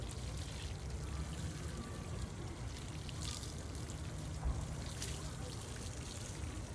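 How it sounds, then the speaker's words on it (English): Rainwater is poured steadily onto a newly planted blueberry bush, a soft continuous splashing trickle heard close and quiet for several seconds without talk. "then we're gonna soak it really good with our rainwater"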